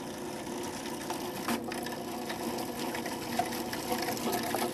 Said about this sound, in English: So now that I have my olive oil, let's turn the machine back on.